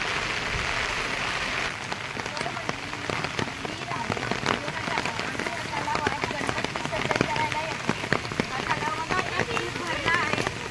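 Heavy monsoon downpour drums steadily over a village lane near a lake, a dense close hiss of rain on surfaces with voices talking throughout.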